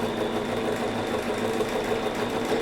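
Steady, close mechanical whir of a sewing machine stitching quilt fabric, run with a sensitive foot pedal, holding an even drone with a fine vibrating texture throughout and no talking.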